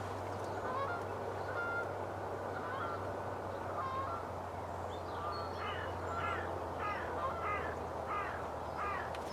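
Early-morning birds call around a garden, with a cluster of repeated honking, cawing calls rising in the second half over a steady low hum, fairly faint and unaccompanied by talk.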